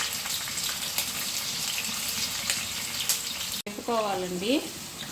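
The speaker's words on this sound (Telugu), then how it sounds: "పచ్చిమిరకాయ, ఉల్లిపాయ కొంచెం దోరగా వేపుకోవాలండి" Green chillies and onions frying in a pan for a fish egg fry, giving a steady close sizzle throughout. A sharp cut is followed by someone speaking over the frying near the end.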